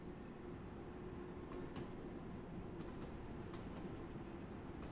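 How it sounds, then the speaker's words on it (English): A London Underground train on the Bakerloo line in Train Sim World 3 rumbles steadily at a platform, with a constant low hum and a few faint metallic clicks, quiet and even throughout. "There's another train on the other platform."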